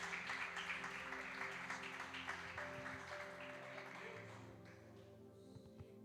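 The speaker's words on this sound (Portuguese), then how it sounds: "uma salva de palmas para Jesus" A church congregation claps in a sustained wash of applause that gradually fades, with steady musical tones and a low hum running underneath throughout.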